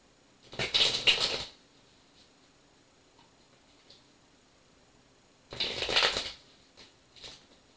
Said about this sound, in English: This deck does not shuffle that well.